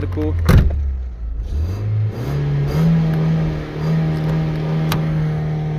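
An Opel Omega 2.0 16v engine running on LPG is revved from idle, rising to a steady higher hum with a sharp click at the start, while someone talks close by.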